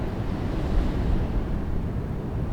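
Sea waves breaking on Dalmore beach amid strong wind, a dense, rumbling wash of surf mixed with gusty microphone buffeting, steady and fairly loud with no voices.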